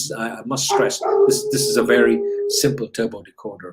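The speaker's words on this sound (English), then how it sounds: "excuse my dog." A dog barks and howls at home in the evening, faint and intermittent beneath a man's steady lecture-style talking.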